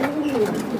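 Racer pigeons give a short, close, soft coo, a single low warbling call lasting under a second.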